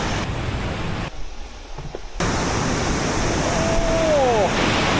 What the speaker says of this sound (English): the sheer amount of water just passing through there every minute is crazy.